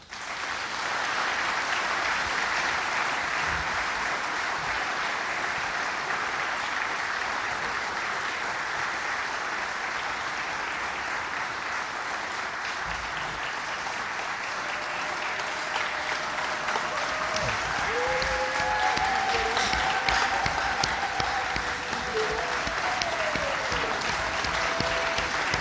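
An audience at a forum opening in the DRC applauds a minister, a long, steady, loud wave of clapping from a large crowd that lasts throughout.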